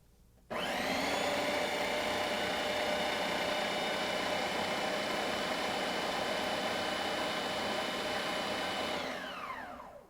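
A kitchen mixer whirring steadily at high speed while oil is poured in, starting abruptly after a moment of quiet, holding a constant loud drone and winding down at the end, with no talk.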